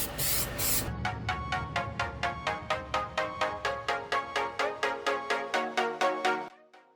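A spray paint can fitted with a fresh nozzle blasts black paint onto a Lotus Elise rear diffuser in one short, loud hiss, followed by a rapid, even series of sharp clicking pulses that stop abruptly.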